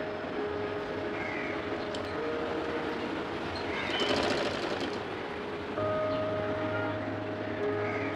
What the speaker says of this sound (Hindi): इसको अच्छे से पक्के टांके के साथ फिनिशिंग दे देंगे और आप चाहें तो उसको डबल सिलाई भी लगा सकते हैं।